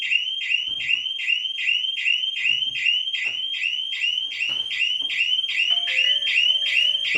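A PIR multi security system alarm triggered by an opened door sensor, a loud, fast repeating electronic beep pattern sounding continuously up close, with brief clicks and handling noises beneath.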